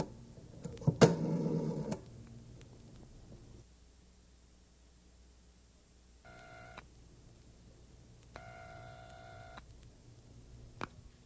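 Several short bursts of telephone dialing tones come in two distinct groups after a brief rustle, over a quiet background hum.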